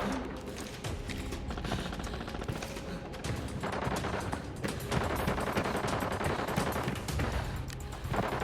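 Gunfire in the shooter Arena Breakout, with dense bursts of shots rattling almost nonstop across the whole stretch, fairly loud with layered reports and background game noise.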